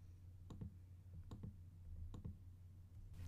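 Mouse clicks on a Mac while a Command key is held to select several folders, three quiet paired clicks spaced evenly against a low background hum.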